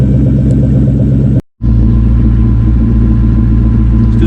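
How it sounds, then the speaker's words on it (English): Steady loud engine rumble from a 2004 Ford Mustang Mach 1 V8, held at revs with a brief sudden cut around the middle before the drone resumes, no voices. "then we'll do some revs"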